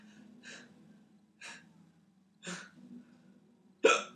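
A person hiccups four times at roughly one-second intervals, quiet and close, the last one sharpest, over a low steady hum.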